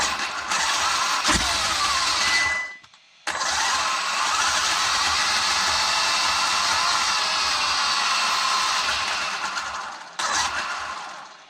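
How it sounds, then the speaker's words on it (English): A motor engine is revved with a blip of throttle after sitting unused for a long time, giving a loud, steady roar that holds for several seconds, briefly drops out, then returns before fading. "I'm just gonna give it a blip of throttle"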